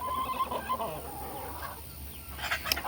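Chickens on a garden plot cluck in short, close bursts over a steady low background hum, with a few sharper squawks near the end.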